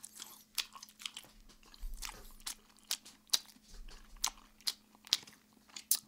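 Kyochon Red Combo fried chicken is bitten and chewed up close, with repeated sharp crunches in an irregular rhythm over several seconds, each crisp bite standing out against a quiet background.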